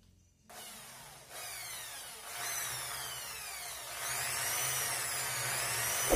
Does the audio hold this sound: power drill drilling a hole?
yes